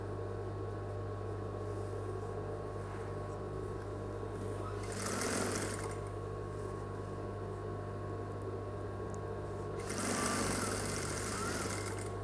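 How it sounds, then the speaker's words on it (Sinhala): Sewing machine runs steadily at close range while stitching a school uniform shirt, a continuous mechanical whir with two brief swells of louder noise partway through. "මේ විදිහට තියලා මහන්න."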